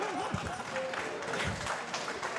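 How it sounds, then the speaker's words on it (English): Audience applause at the 2019 World Pool Masters for player Naoyuki Oi, a steady dense patter of clapping from a crowd, moderately loud and continuous throughout. "Round of applause for Naoyuki Oi."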